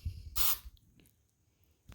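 Spray adhesive from an aerosol can, one short hissing burst that stops quickly, faint and close, in a car door panel job on an RX-7.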